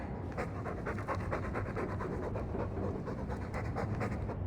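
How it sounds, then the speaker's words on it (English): A dog pants steadily in the video game Dragon Age 2, with quick, even breaths repeating close up, quiet and alone with no talk. "All that noisy dog breath, day in, day out, make him stop."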